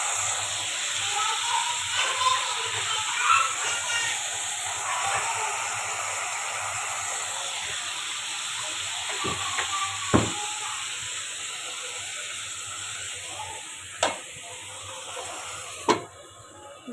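Bitter gourd frying in a pan, a steady close sizzle and hiss running throughout, broken by a few sharp scraping knocks of stirring near the end.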